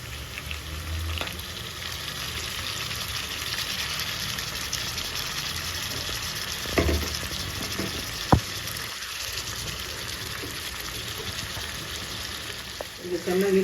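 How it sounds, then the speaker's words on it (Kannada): Chicken pieces frying with golden-brown onions in hot ghee for a spicy Mangalorean ghee roast, giving a steady, close sizzle throughout with a few brief clinks and knocks of the pan. "ಚಿಕನ್ ಹಾಕ್ಕೊಳ್ಳೋಣ."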